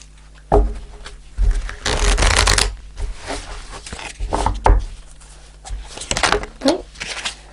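Tarot Grand Lux cards being shuffled, with bursts of papery riffling and sliding close to the microphone, broken by brief pauses and soft taps between handfuls.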